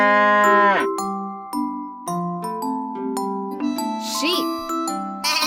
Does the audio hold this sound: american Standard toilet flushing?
no